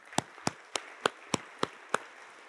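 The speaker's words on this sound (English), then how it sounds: "give yourself a round of applause for that" Seven slow, evenly spaced single claps ring out at a gala, sharp and isolated over a faint room hush rather than a full crowd ovation.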